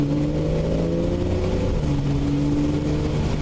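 A Porsche 911 engine pulls hard under acceleration, a loud, close, steady roar with rising harmonic tones, uninterrupted by speech.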